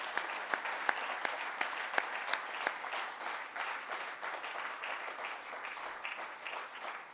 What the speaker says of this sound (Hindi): एक बार जोरदार तालियों की गुजारिश करता हूं।